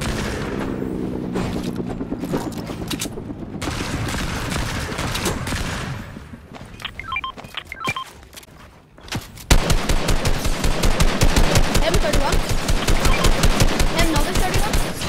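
Gunfire and sniper shots in a shooter video game: scattered shots and sharp cracks at first, then loud, close, rapid automatic fire in a steady stream.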